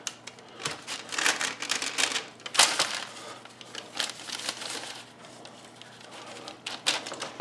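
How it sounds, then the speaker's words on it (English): A fork presses along the folded edge of a sweet potato and Gouda empanada, making a run of close, soft crinkling taps and light crunches that rise and fall in bursts, with no talk. "Fork to tamp the edge."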